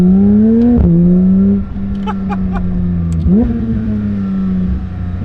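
Porsche 911 GT3 engine on the road, close and loud, with a steady drone that steps through gear changes as it accelerates, the pitch dropping and climbing again, with brief clicks in the cabin.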